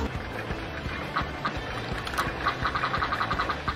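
Duck button in RollerCoaster Tycoon 2 sets off a run of quick quacks, rising into a rapid repeated chain over busy park ambience.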